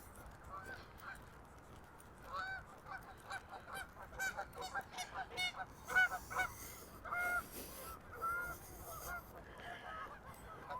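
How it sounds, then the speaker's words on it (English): Geese honk over Wascana Lake in Regina in September as they practice flying before migration, a rapid irregular series of moderately distant honks over faint outdoor background noise. "Geese kind of practicing their flying as they get ready for migration."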